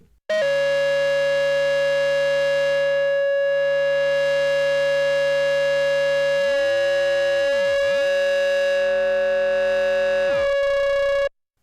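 A steady ARP Odyssey synthesizer tone with rich harmonics, joined partway through by a swooping, wobbling lower pitch as the second oscillator frequency-modulates the filter, then cutting off abruptly.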